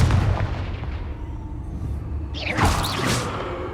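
Confringo fire spell cast in Hogwarts Legacy: a sharp whooshing blast with a bright crackling burst near the end, over a low rumbling game background.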